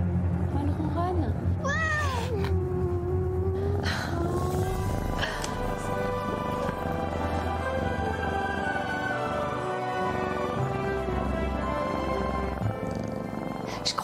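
A cat purrs and lets out a few meows close by, while people talk over it throughout.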